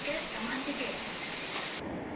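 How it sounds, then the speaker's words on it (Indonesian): A lavalier mic picks up a constant broadband hiss of rain close by, mixed with muffled, indistinct television sound in the room. "Ada suara TV di sana, ada suara hujan di situ."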